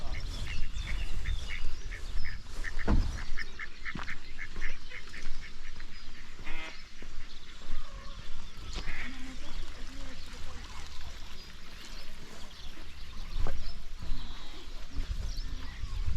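Ducks quack in a quick run of calls at a village pond during a countryside walk, set against steady outdoor wind and background noise.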